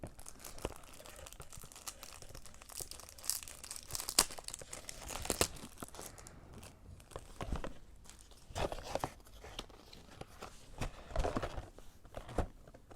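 Brawl Stars trading card packs are torn open and handled, with close crinkling foil, tearing and rustling paper in irregular bursts throughout.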